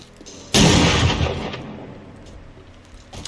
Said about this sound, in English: Did you hear my gunshot?